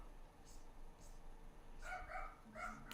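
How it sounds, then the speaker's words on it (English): A dog barks downstairs inside a house, faint and distant, with a few short yapping bursts spread across the moment while a person talks nearby. "Ooh, barking downstairs."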